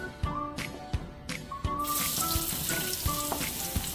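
Hot oil sizzles and crackles steadily in a pan, with scattered sharp pops and faint clinks, close by and fairly loud.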